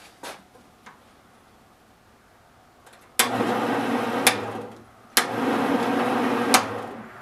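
A new large wood lathe switched on at its slowest speed, starting with a sudden steady low hum and whirring drone, briefly stopping and restarting, with a few sharp knocks over the running motor.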